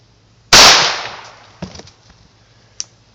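A single sharp, loud gunshot from a .45 ACP pistol fired outdoors into ballistic gel, with a decaying echo and a couple of faint clicks and handling noises afterward.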